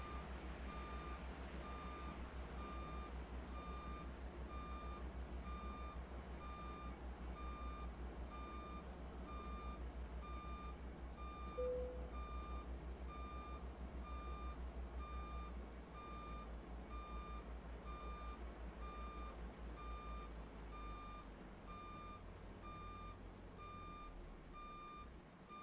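Dump truck with pup trailer backing up in American Truck Simulator, a steady series of evenly spaced reversing beeps over a low constant engine drone, no talk.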